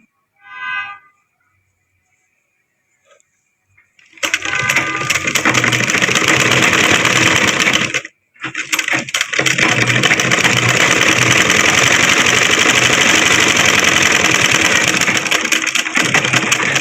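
A sewing machine stitching fabric runs in a loud, steady, close mechanical whir after a short quiet stretch, briefly stops, then starts again and keeps going to the end.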